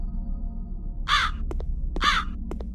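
Two loud crow caws from the video game My Inner Demon, about a second apart, each followed by short sharp clicks over a low background hum.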